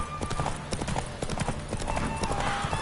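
Horse hooves clip-clop in a quick galloping rhythm in a video game as a rider urges the mare to full speed, the beats steady and close over a game soundscape.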